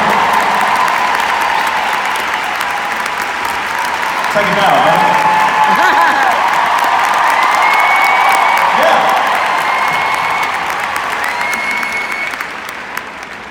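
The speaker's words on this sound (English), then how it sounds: "Sean, give him a round of applause." A live audience applauds a helper who rushed on stage to rescue a performer's mic pack, steady clapping filling the stretch with a few cheers and whoops, while a host's voice speaks over it.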